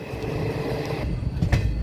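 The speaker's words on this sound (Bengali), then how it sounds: "তো ট্রেন কল্যাণীতে ঢুকছে, যদিও ট্রেনটি কল্যাণীতে দাঁড়াবে না।" The Hazarduari Express passenger train rolls into Kalyani without stopping, a steady loud rumble of wheels and carriages with brief metallic squeals and clatter.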